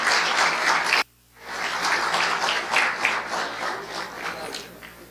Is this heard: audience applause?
yes